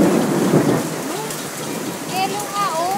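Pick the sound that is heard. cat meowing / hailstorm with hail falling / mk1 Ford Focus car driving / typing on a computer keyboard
hailstorm with hail falling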